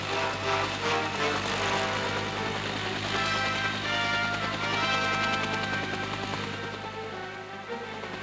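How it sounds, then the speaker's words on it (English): An H-34 helicopter boarded by an infantry squad: a steady, loud, whirring engine and rotor drone, with a hissing rain-like wash, continuing evenly for several seconds with no voices. "Assistance begins with this infantry squad boarding an H-34 helicopter."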